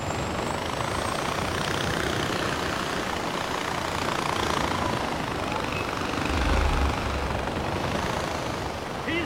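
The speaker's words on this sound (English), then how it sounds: "A little helicopter." Helicopter in the video game Far Cry 4, a dense continuous rotor and engine drone filling the scene, steady and fairly loud, with some talk over it.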